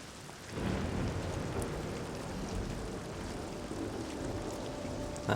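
Steady rain hisses through a night thunderstorm in the stealth video game Thief, with a low rumble of thunder swelling early on and a constant wash of falling water throughout, with no voices over it.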